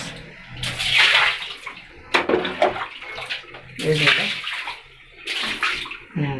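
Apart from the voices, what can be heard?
water being thrown out while cleaning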